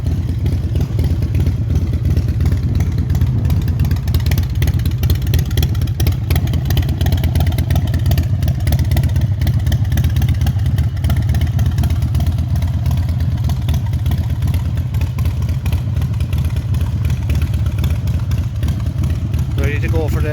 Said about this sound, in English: It's taking over nice.